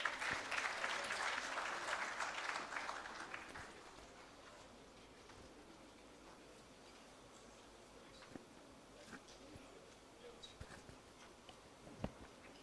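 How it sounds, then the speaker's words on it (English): Audience applause at a business summit in Islamabad for a panel, a dense burst of clapping in the first few seconds that fades out, leaving a quiet hall with scattered faint clicks and noises. "A warm round of applause for our panel"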